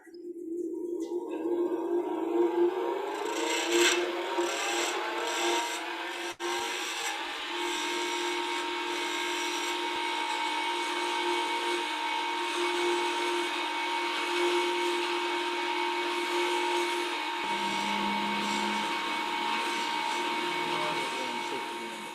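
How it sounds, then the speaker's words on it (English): Steady whirring drone of a lathe spinning a wooden pen blank at low speed, about 770 rpm, with sandpaper rubbing against the wood, continuous and close, a brief shift in pitch near the end. "So I'm just sanding this at a fairly low speed, 770."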